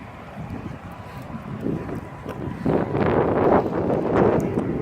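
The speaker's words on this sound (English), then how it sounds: "It's kind of windy" Gusty wind buffets the microphone outdoors in a parking lot, a steady low roar that swells louder in the second half, with no voices.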